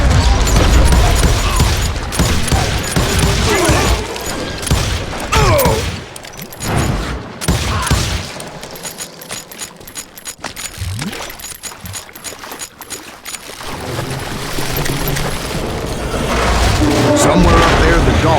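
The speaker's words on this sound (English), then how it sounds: "a fusillade of bullets come raining down from all sides" A dense volley of gunfire erupts from all sides in the Western shooter Call of Juarez: Gunslinger, loud and sustained with booming bursts, mixed under game music and spoken narration.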